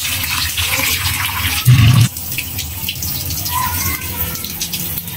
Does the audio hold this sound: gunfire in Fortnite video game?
no